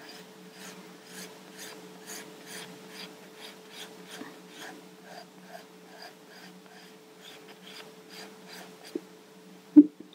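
A Derwent medium charcoal pencil draws a circle on paper, making a steady run of close, dry rasping strokes in an even rhythm, with no talk and a single sharp knock near the end.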